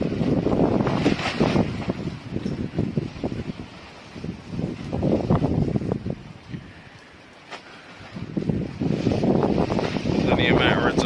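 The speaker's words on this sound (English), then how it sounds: "The wind." Strong wind outdoors in UK weather buffets the microphone in loud rushing gusts that ease briefly before swelling again.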